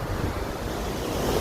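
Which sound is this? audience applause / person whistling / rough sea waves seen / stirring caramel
rough sea waves seen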